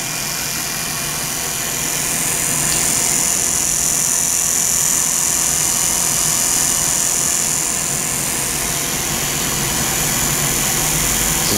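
An AirDog fuel pump runs with a steady, even whir and hum that holds at a constant level throughout, with no voices over it.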